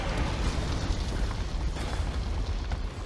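Explosions in the video game Mass Effect 2: a dense, continuous rumble of booming blasts, moderately loud and steady throughout, with no clear gaps between bursts.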